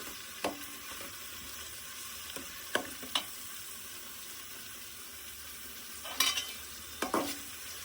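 Onions fry in a pan and are stirred, a constant close sizzle broken by occasional scraping clicks and knocks of the utensil against the pan.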